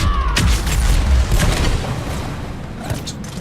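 A Nova biotic blast from the Mass Effect 3 video game erupts as a deep, loud boom with a rumbling low-end tail, fading over a few seconds amid game combat noise.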